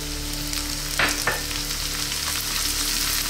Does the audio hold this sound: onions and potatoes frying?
yes